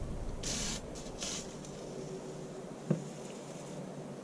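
PB Blaster penetrating oil sprayed from an aerosol can onto thermostat housing bolts of a 2004 Chevy Blazer 4.3 V6, two short close hissing bursts followed by quiet, with a small knock near the end.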